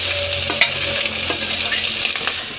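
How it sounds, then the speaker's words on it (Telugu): Chopped onions and green chilies hit hot oil in a pan for country chicken curry, a loud, close sizzle with stirring scrapes and a few sharp clinks of a spoon against the pan. "ఇప్పుడు ఉల్లిపాయ పచ్చిమిరపకాయలు కూడా వేసి మగ్గనిచ్చుకుందాం."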